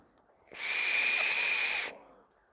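A Cyber RTA vape atomizer set to half airflow gives one steady, fairly loud airy whistle with a hissing edge, lasting about a second and a half before stopping cleanly, heard up close with no talking.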